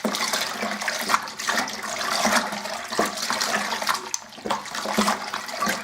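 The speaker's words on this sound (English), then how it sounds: "we're going to fill this up full of boiling hot water" Boiling water poured into a Coopers home brew malt tin, a loud continuous gushing, splashing rush of liquid close by.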